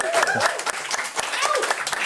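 Studio audience applause for the jazz trio Trommelen after a Russian lullaby, a short wash of clapping mixed with a voice talking over it.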